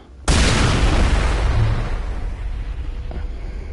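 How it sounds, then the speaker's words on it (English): A sudden loud explosion bursts from shooting an enemy in the Mass Effect Legendary Edition video game, a broad booming blast that decays into a long rumbling tail. "I like shooting those because they create huge explosions."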